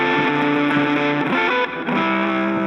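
An electric guitar plays a sustained single-note melody through heavy distortion, loud and close, with long ringing notes changing every beat or so and no talking over it.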